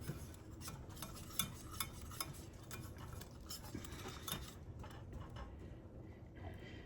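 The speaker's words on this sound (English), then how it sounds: "we're going to just whisk this and let it come to a boil" A whisk scrapes and taps rhythmically against a pot while buttermilk brownie frosting mixture is stirred, quiet and close, with light metallic clinks that ease off near the end.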